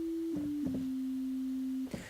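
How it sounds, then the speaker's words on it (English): Oscillator 1 of the Helm software synthesizer plays a pure, steady sine tone that dips slightly in pitch, with a few soft clicks along the way, before cutting off near the end. "That's what oscillator 1 sounds like. It's a sine wave."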